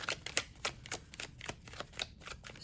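Tarot cards being shuffled by hand in a quick, uneven series of soft riffling bursts, close and fairly quiet.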